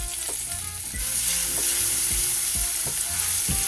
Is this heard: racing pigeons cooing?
no